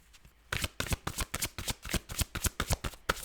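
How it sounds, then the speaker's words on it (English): Tarot cards being shuffled by hand: a quick series of crisp riffling slaps and flutters, close and fairly loud, repeating in an uneven rhythm of about a dozen strokes. "it has taken a little bit of time to shuffle"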